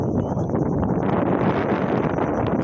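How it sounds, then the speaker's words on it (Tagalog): Strong wind blows at a beach forest, buffeting the microphone in a loud continuous roar with gusty rustling throughout. "batian nyo man kung ano kabaskog sang hangin"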